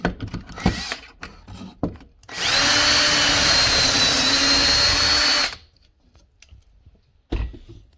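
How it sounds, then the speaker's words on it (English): A Kreg 500-series handheld pocket-hole jig takes a power drill boring pocket holes in a board: one loud, steady whine of about three seconds that stops abruptly, with quiet handling clicks before and after. "So the holes are drilled, the quick release trigger"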